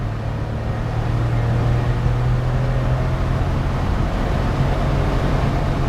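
A Suzuki Carry 660 kei truck runs downhill in fourth gear, its small engine droning steadily with road and wind roar from inside the cab, loud and continuous with a slight swell midway.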